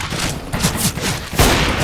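Rapid gunfire in a CS:GO free-for-all deathmatch on Dust 2, a dense fusillade of shots with one loud close blast near the end, over game ambience.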